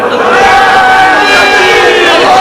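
A large crowd roars and chants slogans together at a religious speech, loud and sustained, a dense wall of many voices filling the whole stretch.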